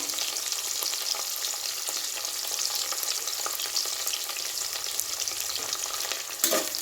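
Green chillies fry and are stirred in a pan while cooking biryani, a continuous close hiss and crackle of hot oil with occasional scraping stirs, no talk over it.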